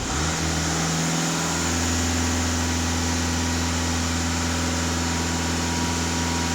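Volkswagen Touran TDI diesel engine held at raised revs, a steady loud drone with a constant low hum that stays even throughout, close by and alone with no talk.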